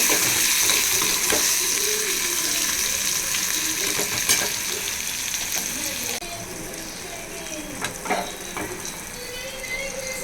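Tomato masala with a little brinjal and potato frying in a pan for a dried fish curry, a steady loud sizzle with scraping stirs throughout, some voice in the background.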